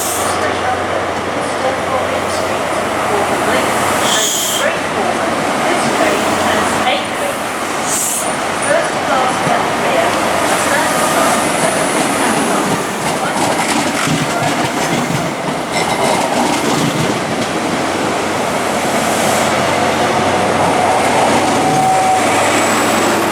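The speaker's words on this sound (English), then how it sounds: "Arriving in now is a Class 43 HST bound for" A Class 43 HST train rolls into Reading station with a continuous, loud rumble and rail clatter that lasts the whole stretch, with occasional brief sharper squeals and no voices.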